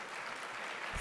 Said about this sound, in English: Can I get another round of applause for our